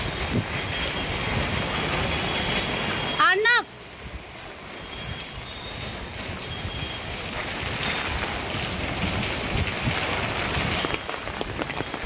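Steady rain falls and patters on surfaces throughout, a dense hiss broken briefly by a short burst of chirping and a sharp noise near the start.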